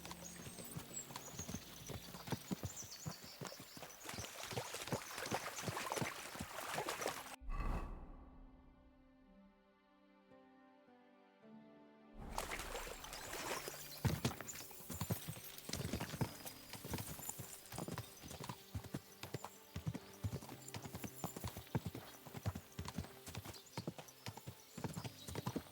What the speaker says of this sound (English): we'll give the horses a gallop again.